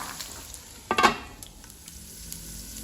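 Pork frying with salt in oil, a soft sizzle with a brief louder burst of stirring and scraping near the one-second mark, close and otherwise quiet.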